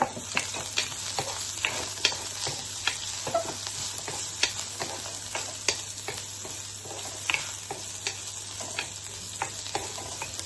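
Paneer and beans sizzle and fry in a pan with steady crackling, while a spatula stirs and scrapes in regular taps throughout, close and continuous with no talking.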